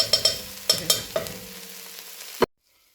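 Butter beans cooking in a pot give off a series of sharp clattering stirs and knocks over a steady close sizzle, with several distinct hits in the first half before the sound cuts to silence.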